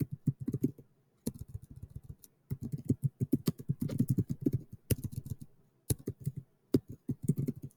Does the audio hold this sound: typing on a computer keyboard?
yes